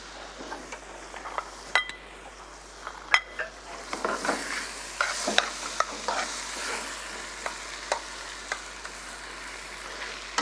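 Tomatoes fry in a pan for a chicken Sicilian dish, a steady sizzle broken by repeated scraping stirs and clinks of the utensil, close and moderately loud, with no talking.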